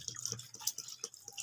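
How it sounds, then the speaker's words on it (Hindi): Water poured into a pressure cooker holding meat for a spiced gosht curry, a short splashy trickle with soft drips, close by and fairly quiet. "अभी हम इसमें पानी डालते हैं"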